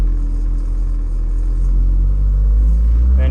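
A car engine idles steadily nearby with a heavy low rumble, holding an even tone with little change until a slight lift at the end.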